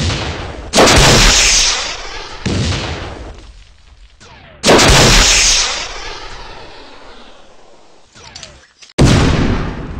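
Loud gunfire bursts from an alien attack robot video game, several heavy blasts each decaying into a long rumbling tail, spaced a couple of seconds apart with no talking.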